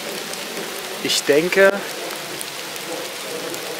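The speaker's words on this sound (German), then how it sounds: "Es regnet nämlich einfach immer noch unfassbar." Heavy rain falls steadily as a wide, even hiss through a hiking outing, with a brief spoken phrase cutting in midway.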